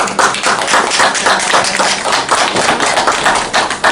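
A congregation at a Sunday church service claps to welcome the pastor to the pulpit, producing dense, loud, continuous applause that stays steady throughout.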